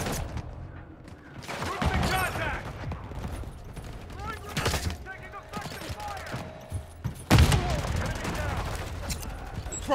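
Rapid bursts of gunfire and explosions from a Call of Duty-style online shooter, with overlapping volleys through most of the stretch, a heavy blast near the end, and a player talking over the battle.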